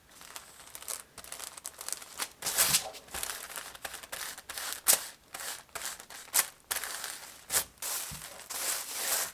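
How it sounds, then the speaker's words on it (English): A pencil eraser rubs against a paper coat-sleeve pattern in quick, irregular bursts of dry scrubbing and crinkling, close and fairly quiet, with no voices. "I'm just going to erase this line so we don't mistake it for a seam allowance"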